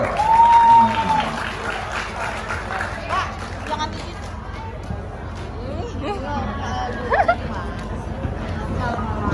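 Audience applause at a chess exhibition during a company anniversary cup tournament, a moderate burst at the start that fades into steady crowd chatter and murmuring voices.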